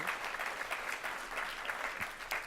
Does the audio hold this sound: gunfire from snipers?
no